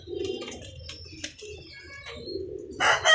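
Pigeons cooing in soft, low bursts among a kept flock of paired birds, with faint chirps and a brief flutter near the end, fairly close and without talk.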